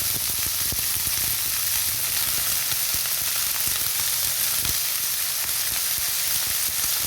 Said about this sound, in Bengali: দেখুন, ভালো করে মিশিয়ে নিচ্ছি পেঁয়াজের সঙ্গে